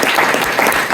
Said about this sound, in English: let's give everyone a round of applause.